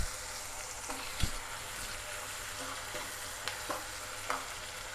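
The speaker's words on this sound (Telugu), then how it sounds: "ఇవి ఉల్లిగడ్డలు బాగా వేగాలి కదా, కొంచెం సాల్ట్ బాగా గోల్డెన్ రంగులో వచ్చే వరకు వేయించుకుందాం." Onions frying with salt in a pan give a soft, steady sizzle, with occasional light clicks and taps of a spoon stirring, quiet and close, and no voices.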